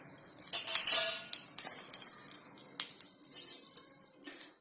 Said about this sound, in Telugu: వేడెక్కింది, 1 టీ స్పూన్ ఆవాలు వేసుకోండి.